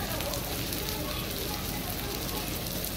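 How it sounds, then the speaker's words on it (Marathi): Bheja masala, goat brain in spiced masala, fries uncovered in a pan with a steady, dense sizzle that runs throughout, close and fairly loud. "असंच फ्राय करायचं आहे भेजा फ्राय"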